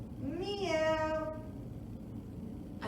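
Young children imitate a cat's meow together in a single rising-then-falling group call, clear and close in a quiet room.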